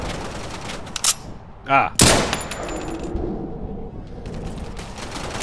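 Rifle gunfire in the space game Spacebourne 2: loud, close bursts of shots with a sharp crack and rattling tail, separated by brief pauses, while someone speaks over them.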